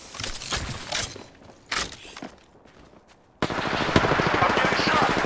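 Video game gunfire in a squad shooter, with scattered shots and footsteps under voice chat, then a sudden loud sustained burst of automatic fire that continues to the end.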